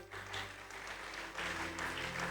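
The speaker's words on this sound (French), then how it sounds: "Est-ce qu'on peut acclamer pour la gloire de Dieu?" A church congregation at a French-language worship service claps steadily in brief, moderately loud applause, with no talk over it.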